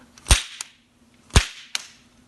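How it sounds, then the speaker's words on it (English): A slapstick, made of two boards joined by a spring hinge, cracks like a whip in two loud, close slaps, each followed by a lighter secondary snap, with silence in between. "it makes a slapping sound, which is perfect for many of the dumb gags that the writers of the time came up with."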